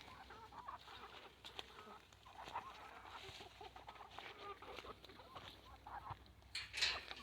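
Ameraucana hens, olive egg layers loose in a small wooded farmyard, cluck softly and intermittently amid faint outdoor ambience, growing a bit louder near the end.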